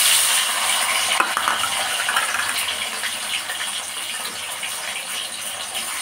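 Tomatoes frying with fenugreek seeds in hot oil for a brinjal fish curry, giving a steady close broadband sizzle with occasional light scraping stirs and no talk.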